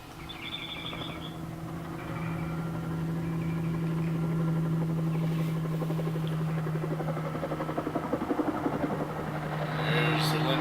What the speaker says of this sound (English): Comes the helicopter.